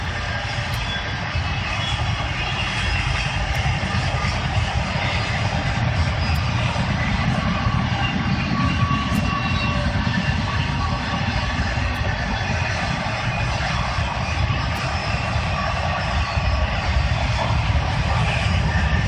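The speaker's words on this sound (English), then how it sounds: "Pretty long train. There's the end of it." Long train passing on a nearby track, a loud, continuous rumbling roar with steady clatter that holds throughout without pause.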